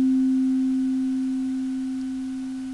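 A single pure synthesizer tone sustains steadily and fades slowly over its longer decay, a smooth clean note heard alone without any voices.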